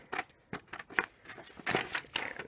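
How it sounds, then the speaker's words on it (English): Scissors snipping out small paper thank-you cards, a quiet close series of short crisp cuts in an irregular rhythm, with no talk. "So I'm going to start off by cutting out 2 of these thank you cards."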